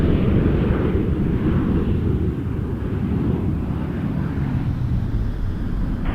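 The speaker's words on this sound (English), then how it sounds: "737-800 from Punta Cana, WestJet 2777 about to land on 6 left." A WestJet Boeing 737-800 landing on runway 6 left at Toronto Pearson makes a loud, steady low roar with a broad rushing wash, continuous throughout and heard from nearby.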